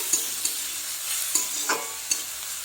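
Katla fish pieces fry in a pan with a soft continuous sizzle, broken by several sharp spoon-scraping stirs at irregular intervals, no voices.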